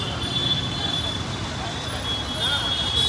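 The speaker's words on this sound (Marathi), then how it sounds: "ट्रॅफिक बघू शकता" Road traffic on a Mumbai street during a Ganpati arrival procession forms a continuous low rumble of passing vehicles that swells slightly near the end, with distant crowd murmur beneath.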